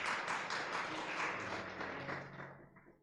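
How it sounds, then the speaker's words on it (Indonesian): A church congregation applauding during a Sunday worship service, with dense, sustained clapping that fills the space and gradually fades out at the end. "Mau kasih tepuk tangan buat Tuhan Yesus."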